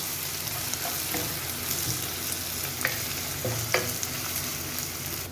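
Chopped onions frying in oil for prawn biryani, a steady close sizzle with occasional sharp clicks and scrapes of stirring, no one talking.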